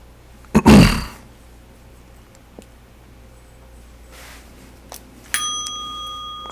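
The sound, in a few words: something accidentally hitting a bell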